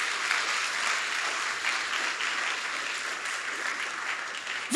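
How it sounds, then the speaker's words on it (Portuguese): Congregation clapping during a Portuguese-language sermon, a dense, even wash of applause from many hands held steady for several seconds with no talking. "Dê uma salva de palmas ao Senhor."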